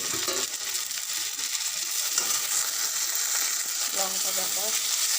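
Ginger and chili paste frying in a pan gives a quiet, steady crackle, with a few light clinks and scraping sounds of stirring and a brief murmur of background voice.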